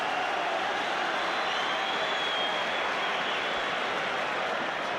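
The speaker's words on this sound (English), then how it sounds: "Tremendous applause there from the Rangers fans" Rangers fans at a Scottish League Cup Final against Hibernian applauding in a big stadium, a broad, even roar of clapping and crowd noise that holds steady throughout.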